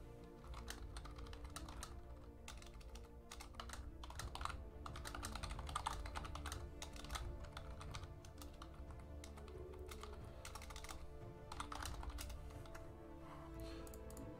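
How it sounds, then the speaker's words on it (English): Rapid typing on a computer keyboard, with dense bursts of clicky keystrokes running continuously at a close, moderate level and only brief pauses between flurries. "Typing ASMR clickety click."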